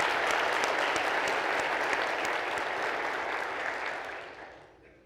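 Steady audience applause in a conference session honoring guest speakers, a dense wash of many hands clapping that holds evenly for about four seconds, then tapers off and fades out.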